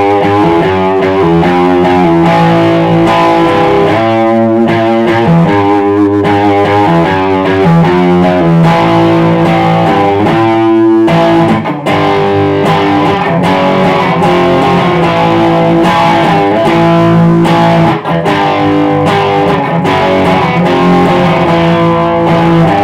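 An electric guitar through a distortion pedal plays a loud, driving riff, thick and buzzing, sustained throughout with rhythmic chord changes and no singing.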